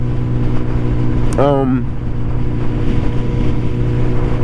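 A 2013 Kawasaki ZX-14R motorcycle rides along a road, its engine giving a steady loud drone under strong wind rush, with a brief rising whine partway through and a person talking over it.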